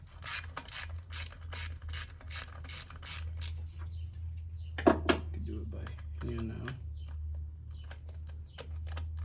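A ratchet loosening the hose clamp on a Honda Civic cold air intake, a fast series of sharp clicking strokes close by, pausing for a few louder clanks, then resuming, with someone talking at times and a low engine-bay hum beneath.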